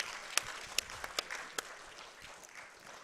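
A small tournament crowd at a StarCraft II event claps for the player Pigeon, a thin scattering of sharp individual claps over a faint murmur, fairly quiet and brief.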